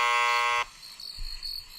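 A trivia quiz ding sound effect, a bright harmonic electronic tone that rings loudly for about half a second, then cuts off and leaves faint background noise.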